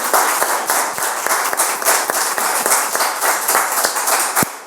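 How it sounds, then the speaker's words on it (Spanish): A workshop audience gives sustained applause at the close of a session on mediation between older people and their families, dense clapping filling the whole stretch at a steady level with no talk over it. "podemos darle incluso un aplauso"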